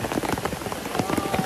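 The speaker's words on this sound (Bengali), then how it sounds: "একদম বৃষ্টি চলে আসছে, দেখতে পাচ্ছে" Heavy rain pours down at a hillside waterfall, a dense, loud, steady patter and rush filling the scene, with voices faintly mixed beneath it.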